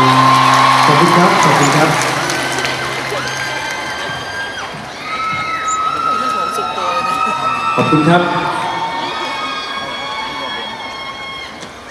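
A crowd at a concert stage screams and cheers loudly at first, then the noise settles to a lively hubbub as someone speaks over it.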